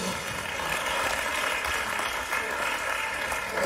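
A church congregation applauding and cheering for the Lord, a dense continuous wash of clapping and crowd noise filling the room throughout.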